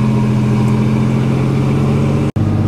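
A cammed Chevy S10 engine, just cold-started, revs loudly and steadily with a droning, lumpy tone, cut by one brief dropout near the end.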